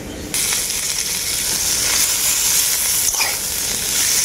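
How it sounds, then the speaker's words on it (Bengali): Ginger paste sautéing in oil with potato and bottle gourd greens, a loud, close, continuous sizzle with light stirring scrapes running throughout. "আদাটাকেও আমি সবজির সাথে খুব ভালো করে কষিয়ে নেব।"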